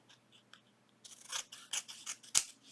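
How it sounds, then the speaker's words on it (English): Close scissors snip through coffee-dyed paper with doilies, with a few faint taps first and then a quick run of crisp, separate cuts. "Alrighty, and I'm just finishing up cutting these."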